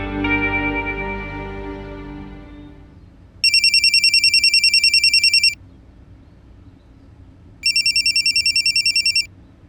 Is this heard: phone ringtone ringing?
yes